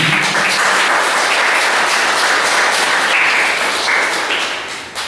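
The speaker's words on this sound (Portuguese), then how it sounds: "Vamos aplaudir ao Senhor." Congregation applauding in a church service: dense, steady clapping from many hands fills the room at close range, holding level throughout before tapering off at the very end.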